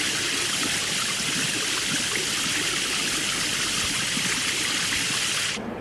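A shower runs with a steady, dense hiss of spraying water, constant and loud throughout before cutting off abruptly at the very end.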